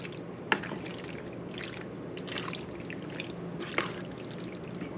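Thick, gloopy lobster mac and cheese sauce being stirred in a pot, giving a steady soft wet churning with a couple of sharper sloppy squelches, close and moderately quiet, with no talking.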